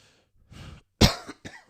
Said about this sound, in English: Sometimes these coughs kind of sneak up on me.